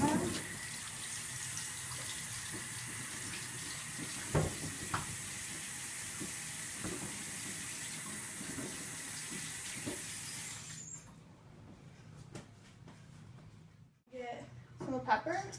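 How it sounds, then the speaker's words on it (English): Hands rinsed under a running kitchen tap while preparing fajitas, a steady close water hiss that stops abruptly near the end, followed by faint handling clatter. "actually first I'm going to wash my hands"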